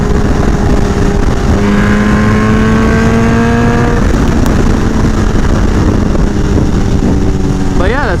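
A Kawasaki H2 motorcycle engine revs loudly and close, its droning pitch climbing in long sweeps through the gears over heavy wind rush.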